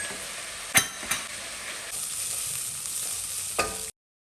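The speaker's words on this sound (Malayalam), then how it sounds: "സവാള വഴറ്റിയതിലേക്ക് നമുക്ക് ചിക്കൻ ചേർത്തിട്ട് ഹൈ ഫ്ലെയിമിൽ വെച്ച് തന്നെ നന്നായിട്ടൊന്ന് സോട്ട് ചെയ്തെടുക്കുക കേട്ടോ." Chicken tossed into sautéed onions sizzles hard over a high flame, a steady bright hiss with a few sharp clanks of a spoon against the pan, then it cuts to silence.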